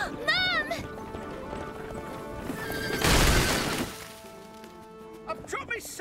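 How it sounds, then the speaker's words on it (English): A cartoon horse pulling a cart in Fireman Sam gives a shrill, wavering neigh, then a loud rush of running hooves and clattering, followed by quieter clip-clops and a few knocks. "The ghost of Pontypandy Pete has scared a horse And now it's pulling a cart at high speed"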